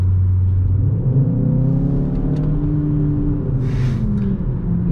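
A 2021 Skoda Octavia RS with an aftermarket, active-sound exhaust revs in sport mode, giving a loud, close, continuous engine roar with harmonics that rise and sweep as the revs climb, then a brief hiss.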